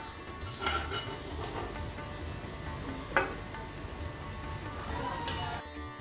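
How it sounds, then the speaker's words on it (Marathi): Cabbage cutlets frying in oil in a pan, a continuous close sizzle with light clinks of utensils against the pan and a sharper tap partway through. "आता हे दोन्ही बाजूनी मस्त खरपूस भाजून झालेले आहेत"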